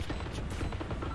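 Rapid bursts of gunfire in the video game Valorant crackle in quick succession, dense and continuous over a short stretch, with a slightly muffled, game-like quality.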